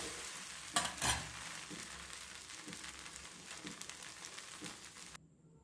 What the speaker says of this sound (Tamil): இந்த தோசையவும் மாற்றி திருப்பி போடுவோம்.